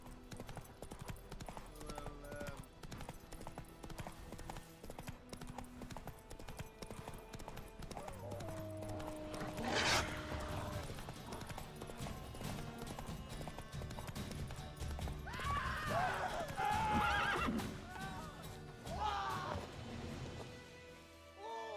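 Roach, Geralt's horse in the video game The Witcher 3, gallops with steady rhythmic hoofbeats, joined by a couple of neighs and whinnies, faint and continuous under game sounds.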